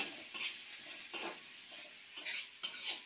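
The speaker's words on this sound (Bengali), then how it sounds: "দিয়ে এইগুলো আমি ভালো করে নেড়ে চেড়ে ভেজে নেব" Chopped onion and soybean stirred and fried in a pan for a vegetarian soybean-potato dish: a soft, fairly quiet sizzle broken by five or six spaced scraping strokes of the spoon across the pan.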